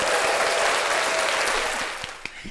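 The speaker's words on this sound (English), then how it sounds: "So I want y'all to give a big round of applause for Mikayla." An audience breaks into a full round of applause for a guest, steady dense clapping that holds strong and then thins toward a few scattered final claps.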